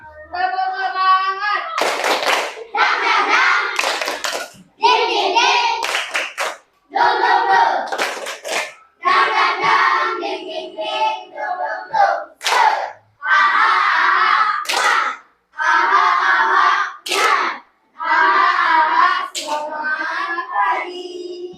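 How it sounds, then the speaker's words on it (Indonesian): Schoolchildren in a coding and AI class perform the tepuk semangat clapping chant, shouting short chanted phrases in unison punctuated by sharp bursts of rhythmic hand claps, repeated in a steady call-and-clap pattern for about twenty seconds. "sebelum pulang kita ice breaking, tepuk semangat."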